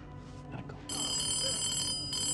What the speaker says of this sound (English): her phone is ringing